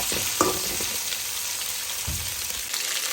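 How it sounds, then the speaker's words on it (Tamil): Chopped vegetables for sambar sauté in a hot pan, giving a steady close frying hiss with a couple of short stirring clatters and scrapes, no voices. "கொஞ்சம் நேரம் நம்ம காய்கறியை வதக்குறோம்"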